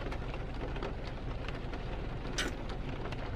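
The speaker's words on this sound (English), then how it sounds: "And it's a crappy rainy day." Rain falls on a gloomy day as a constant dense patter and hiss, with a few sharper drops and splashes over the steady wash, and no talk.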